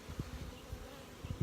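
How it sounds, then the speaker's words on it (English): Honey bees buzz around an open hive during a spring queen inspection, a close, steady droning hum with small swells as individual bees pass near. "There's some beautiful bees here."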